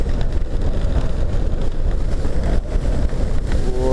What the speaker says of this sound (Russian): ветер, но еще не самые сильные порывы.